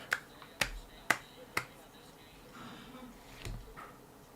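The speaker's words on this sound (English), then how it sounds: "slow clap." Four sharp, evenly spaced claps ring out one after another, a close and crisp slow clap, followed by near silence.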